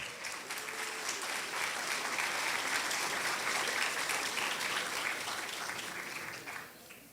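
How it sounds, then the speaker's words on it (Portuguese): An audience at a talk and presentation event gives a round of applause, a dense, sustained clapping that swells, holds for several seconds and then tapers off near the end, with no speech over it. "uma salva de palmas, senhoras e senhores"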